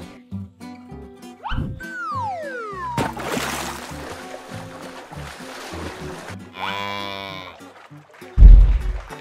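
A cartoon cow moos among upbeat music and cartoonish sound effects during a boat race game, ending with a loud thump.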